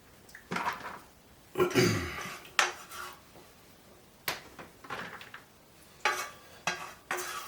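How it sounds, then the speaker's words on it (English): Browned lean beef is broken up with a utensil and spooned into meal-prep containers, heard as close scrapes and clinks of metal against pan and plastic, coming in short irregular bursts with brief quiet gaps between them. "we're just going to break up this browned up beef here, and we're going to add it into our containers"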